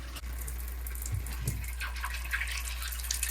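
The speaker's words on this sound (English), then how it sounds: "I have to show you this water pressure." Water runs steadily from a tiny shower in a vintage 1964 Airstream trailer at an RV resort, a thin, weak low-pressure hiss with faint spatters, continuous and close with no talking.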